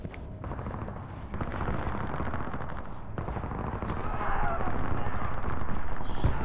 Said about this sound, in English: You hear a lot of gunfire and a lot of people dying.